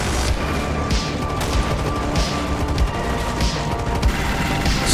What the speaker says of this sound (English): I call in some napalm strikes on it and mortars